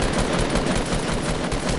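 Video game gunfire sounds as a dense, continuous stream of rapid automatic shots, loud and unbroken for the whole stretch, with no talking.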